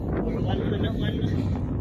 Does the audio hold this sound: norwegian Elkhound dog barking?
no